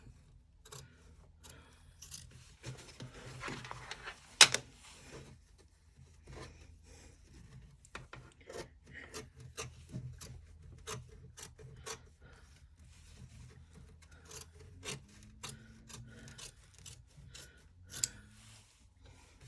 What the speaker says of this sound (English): And then just trim all the way around.